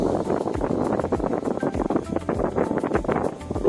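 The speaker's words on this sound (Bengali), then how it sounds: "মোটরগুলো বেশ শক্তিশালী, এর কারণে এর বাতাসও মানে তুখোর বাতাস।" A homemade mini rechargeable fan driven by joystick vibration motors blows hard right at the microphone, making a rough, fluttering rush of buffeting wind that pulses unevenly for a few seconds.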